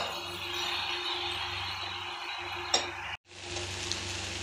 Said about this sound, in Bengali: ভেজে রাখা সব সবজি দিয়ে দেবো, আর দিয়ে দেবো একটু মিষ্টি। দিয়ে ভালো করে মেশাবো।